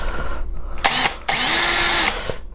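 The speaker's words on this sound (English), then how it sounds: "I'm drilling, but without doing any pressure." A power drill bores into the trunk of a corkscrew hazel bonsai in two whirring bursts, the second longer, each a sharp high-pitched spin with light pressure and brief pauses between.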